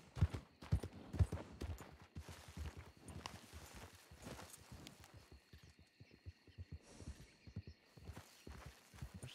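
Horse hooves clip-clop at a walking pace in a roleplay video game, a quiet, uneven run of soft knocks with a faint tonal hum in the background.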